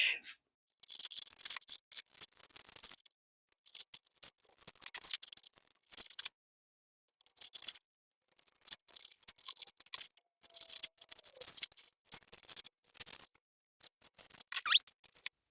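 Scissors snip through fabric while cutting out pattern pieces for a heart-shaped zipper pouch, a close series of short crisp cuts in bursts separated by brief pauses.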